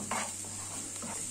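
Garlic cloves frying alongside browned onion in a pan give a soft, quiet sizzle with a couple of light stirring scrapes close by, and no voices.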